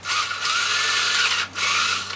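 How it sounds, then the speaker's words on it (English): A power drill fitted with a big bit bores into a piece of wood for a porch shade blind bracket, a close, loud whining grind in two bursts with a short break between them. "you drill a little bit of hole in it"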